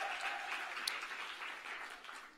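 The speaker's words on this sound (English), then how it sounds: "I think that deserves a big round of applause." Audience applause fills a summit session room, a steady wash of many hands clapping at moderate distance, continuous and fairly even for a couple of seconds with no voices on top.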